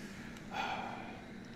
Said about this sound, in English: And what's up with this sniffing?